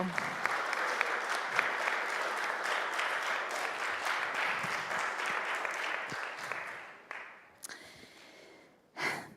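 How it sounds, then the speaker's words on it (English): A congregation at a Shabbat service breaks into sustained applause, a dense steady patter of many hands that holds for several seconds before thinning to scattered claps and fading out. "let's give them a big round of applause"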